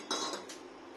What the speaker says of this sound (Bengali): এবার ঢেলে নেবো রান্নাটা একটা বাটিতে ঢেলে নেব